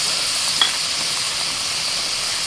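A paste of tomato, ginger, green chilli and melon seeds hits a hot pan and sizzles with a constant hiss, broken by one small click early on.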